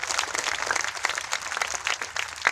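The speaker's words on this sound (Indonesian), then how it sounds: "Yang percaya berikan tepuk tangan buat Tuhan." A church congregation at a healing crusade claps together, a short burst of brisk applause from many hands, steady and fairly loud throughout.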